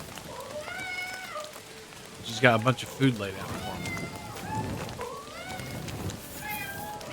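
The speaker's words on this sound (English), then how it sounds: "Is that meowing?" Several cats meow repeatedly around a room in the Kingdom Come Deliverance 2 video game, with clear drawn-out mews rising above someone talking and soft background noise.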